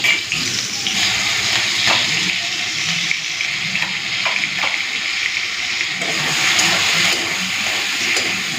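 Spices fry in hot oil for a soybean curry with potatoes and pointed gourd, a continuous loud sizzle punctuated by scattered scraping taps of stirring.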